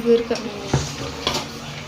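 Spice mix of garam masala, coriander powder and turmeric stirred in a pan over a medium gas flame, giving soft scraping strokes with a few light clinks of the spoon against the metal.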